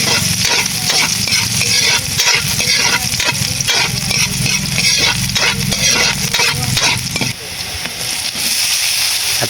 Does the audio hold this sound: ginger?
yes